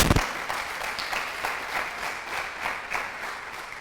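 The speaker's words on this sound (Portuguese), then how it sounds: "Você pode dar um aplauso ao Senhor aí?" A church congregation breaks into applause after a sharp opening clap, the many hands merging into a moderately loud, rippling wash of clapping that swells in soft waves and carries on steadily.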